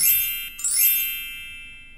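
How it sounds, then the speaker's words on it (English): A chimes sound effect played from the OctoStudio coding app, loud and close: two bright, shimmering strikes about half a second apart, the second ringing out and fading slowly. "So I'm going to have it play the chimes and continue."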